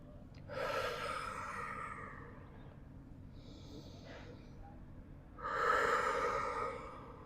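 A person lying on their back during a mixed-level Pilates workout takes slow, deep breaths, two long audible exhalations a few seconds apart with a faint breath between, close and quiet.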